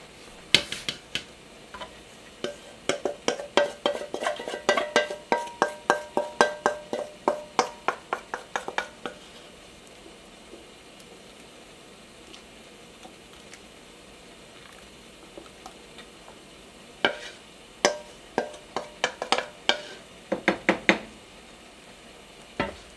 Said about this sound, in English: So I'm gonna mix this all up.